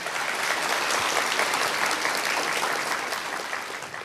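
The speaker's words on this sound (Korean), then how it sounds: "박수로 맞아주시기 바랍니다." Sustained, loud applause from an audience at a Korean public-service award ceremony, filling the hall evenly for several seconds without talk.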